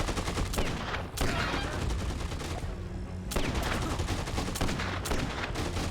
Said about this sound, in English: We're going to be using the 6-shooter I got, because it kills all the enemies in one shot